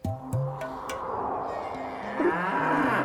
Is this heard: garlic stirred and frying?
no